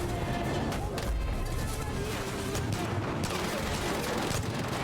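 Gunfire keeps firing automatically in Assassin's Creed Odyssey, a dense, continuous barrage of rapid shots with heavy booms, loud and unbroken over busy game noise.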